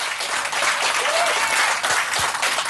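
Steady, dense clapping from a studio or event audience, with no voices over it, holding at even volume throughout.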